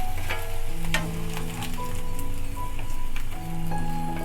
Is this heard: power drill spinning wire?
no